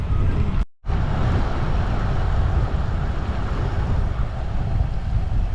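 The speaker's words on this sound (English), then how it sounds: "Pretty good side winds though." Strong side wind buffeting a microphone during a wet 600 km randonneuring bicycle ride in the Finger Lakes, a loud steady roar with a brief dropout near the start.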